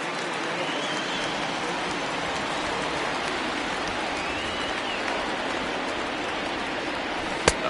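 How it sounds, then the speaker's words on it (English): Heavy rain pours down during a baseball game, a steady, dense hiss of drops on surfaces that fills the whole stretch without let-up. A brief sharp knock lands near the end. "This has got to be the hardest rain we've seen all afternoon."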